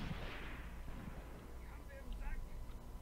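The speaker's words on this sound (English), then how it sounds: "I did call in artillery on the top of the hill where they crossed" Artillery shells landing on a hilltop in the World War II tactics game Graviteam Tactics, set around Kharkov in 1942, come as a few faint, distant booms under steady background rumble and someone talking.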